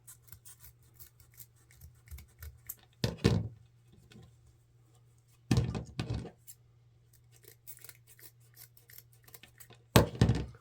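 Scissors snip through a few stacked lengths of ribbon at an angle, trimming ends for a wreath; three short, crisp bursts of cutting spaced apart over a faint steady hum.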